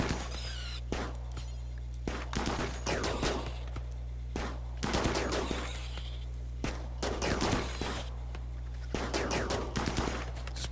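Colonists' gunfire in the video game RimWorld, a series of loud clustered shot volleys with short gaps between them, over a steady low hum.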